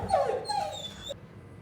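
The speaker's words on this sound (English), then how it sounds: "Sorry about that. My dog is barking again." Pet dog at home making short, high whining yelps, two or three quick vocal bursts close to the microphone, fading into quiet room tone.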